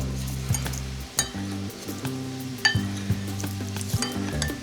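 Ground beef stir fry sizzles steadily in a hot pan while being stirred, with soft scrapes and light clinks of the utensil breaking through the constant close frying hiss.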